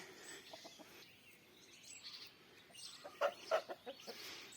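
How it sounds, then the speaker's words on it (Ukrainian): A nightingale sings somewhere nearby among flowering ornamental shrubs in May, faint trilling and chirping phrases scattered over quiet outdoor background, with a few louder short notes toward the end. "Десь зовсім недалеко співає, заливається соловей, освічуючись своїй солов'їсі у коханні."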